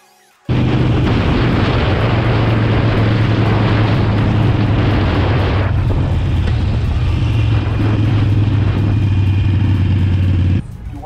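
A motorcycle engine runs loud and steady throughout with a strong low drone, the pitch dipping and shifting midway as if changing gear, with no talk over it.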